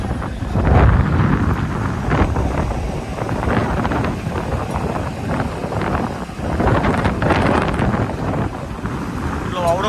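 Strong wind buffets a fishing boat at sea off Porbandar on a moonlit night, a broad steady roar of gusts and water wash rising and falling as the vessel rolls, with someone speaking over it in places.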